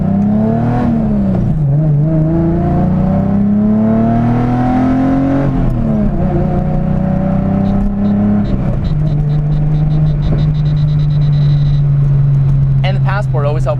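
A BMW E30 with its engine stroked to 2.7 litres accelerates hard through the gears, its loud, close engine note climbing steadily and then dropping at each shift before rising again.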